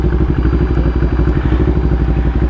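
A motorcycle engine idling close by at a beach resort entrance in Mariveles, Bataan, with a steady, loud, chugging, clattering rhythm throughout.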